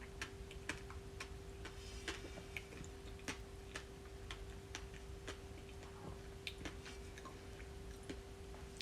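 Someone chews a fig up close, with a steady series of small wet clicks and squishy bites against a faint constant hum and no talking.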